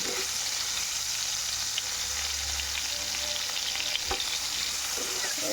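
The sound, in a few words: prawns frying in oil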